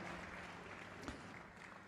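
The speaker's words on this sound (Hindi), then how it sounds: "उस प्रभु के लिए ताली बजाओ और उसकी तारीफ करो।" A church congregation clapping in praise to the Lord, steady soft applause heard from a distance and fairly faint.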